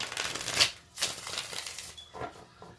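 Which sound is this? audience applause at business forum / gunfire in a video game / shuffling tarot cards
shuffling tarot cards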